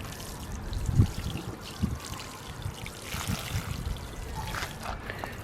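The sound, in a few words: watering newly planted canna and elephant ear bulbs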